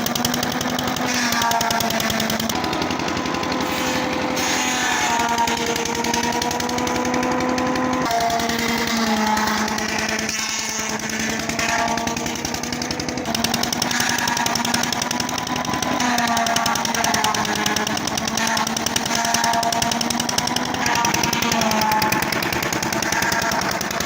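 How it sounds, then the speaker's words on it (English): A sisal fiber processing machine runs continuously, giving a loud, dense mechanical clatter with steady harmonic drone and rapid rattling throughout, with no speech. "this machine processes it efficiently to produce high-quality sisal fiber"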